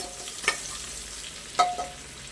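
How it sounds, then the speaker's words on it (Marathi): Onion fries in hot oil with cumin and mustard seeds, giving a soft, continuous sizzle broken by two brief scraping stirs. "कांदा आपल्याला थोडासा गोल्डन ब्राऊन रंगावरती परतून घ्यायचा आहे"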